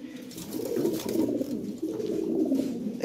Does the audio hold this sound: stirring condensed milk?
no